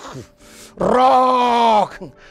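A voice imitates a snore as one drawn-out, rough, voiced groan of about a second, loud and close, with brief bits of speech just before and after.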